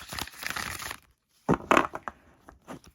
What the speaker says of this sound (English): See, these really riffle shuffle, very great.